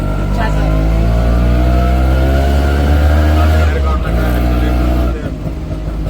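An auto rickshaw drives along a road near Nashik, its small engine droning steadily and loudly with shifting pitch, the hum dipping briefly near the end; a voice speaks over the engine.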